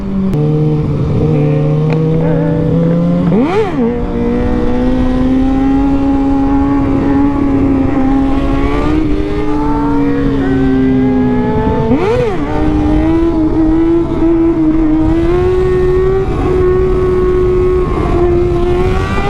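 A car engine drones steadily, its pitch rising and falling as it shifts and accelerates, loud and close throughout with no talking, while driving to a car meet.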